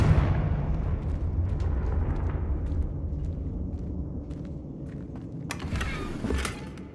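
A Confringo blasting spell erupts in Hogwarts Legacy as a loud, sustained rumbling explosion that slowly fades, followed by a sharper burst of crackling debris near the end.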